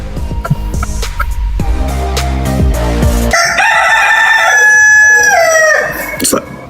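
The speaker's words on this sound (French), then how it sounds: "Le coq a chanté. S'il chante la 3e fois, c'est fini. Il a chanté 2 fois." A rooster crows once loudly and close by, a long strained call that wavers in pitch and then trails off, after a few seconds of other clattering sounds.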